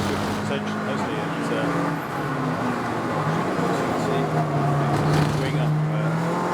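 Touring race cars at Snetterton circuit, including an Audi TT with a TDI engine, droning steadily past with sustained engine noise under continuous commentary.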